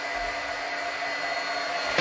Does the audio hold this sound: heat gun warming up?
yes